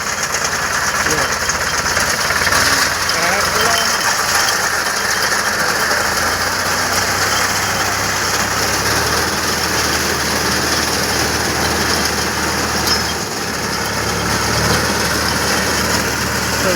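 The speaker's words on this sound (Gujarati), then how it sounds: "જો આપણે વાટવા માટે આવી ગયો કટર કેવો વાટે છે" A fodder cutter machine's engine runs while chopping sorghum fodder on a farm, a loud, steady, unbroken mechanical drone with knocking vibration throughout, with voices partly buried beneath it.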